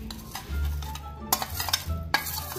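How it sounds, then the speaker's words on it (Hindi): A spoon scrapes and clinks against a bowl while a mixture is added to and stirred into white chocolate for chocolate paan barfi, a few quick close taps and scrapes over a low background hum. "अब हम इसे स्पून की मदद से अपनी व्हाइट चॉकलेट में डाल देंगे।"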